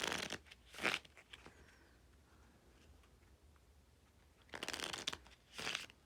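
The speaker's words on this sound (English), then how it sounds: "I will shuffle the cards." Two quick riffle shuffles of linen-finish playing cards, each a short crisp burst of fluttering card edges heard close and alone, separated by a quiet pause at tabletop level.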